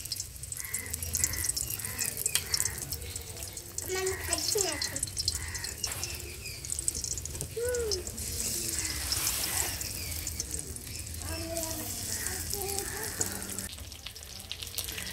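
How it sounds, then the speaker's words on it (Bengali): Chicken leg pieces fry in a little oil for pakora, giving a soft, continuous sizzle with faint bubbling throughout. Quiet voice fragments drift in and out underneath. "তো এবার আমাদের লেগ পিসগুলো এখানে ভাজা ভাজা করে নিচ্ছি"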